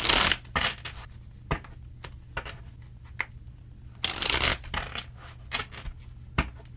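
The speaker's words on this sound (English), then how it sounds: "All right, 3 more shuffles and let's begin." A deck of tarot cards is shuffled during a reading, crisp riffling bursts and soft slaps and flicks repeating close to the ear at an uneven rhythm, without talk.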